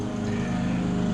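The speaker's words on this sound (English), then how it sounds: "Sorry about the lawnmower in the background." A steady engine drone hums on without pause, a low, even mechanical rumble like a lawn mower running at moderate distance.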